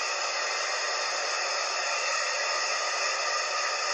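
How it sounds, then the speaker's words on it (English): A hair dryer runs steadily at close range, a constant airy whoosh with an even hum and no talking. "shake your blow dryer"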